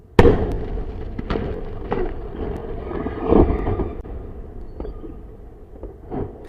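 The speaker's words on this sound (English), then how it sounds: "I've synced the audio of the explosion" A distant rocket explosion reaches the microphone as a sharp initial boom, then rumbling thuds and crackling booms that roll on for several seconds at a steady, moderately loud level with no voices.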